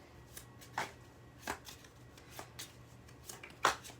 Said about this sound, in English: I'm going to just pull some quick love oracle cards